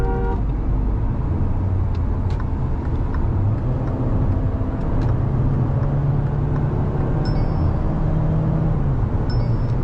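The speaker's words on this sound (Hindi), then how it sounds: "मुझे अभी तक जो गाड़ी के बारे में सबसे ज़्यादा चीज़ इम्प्रेस करी है वो है इसकी इंजन साउंड।" Interior hum of a Mahindra XUV 7XO AX7L petrol automatic while driving, a steady low engine and road drone with a couple of brief distant horn toots and faint clicks over it.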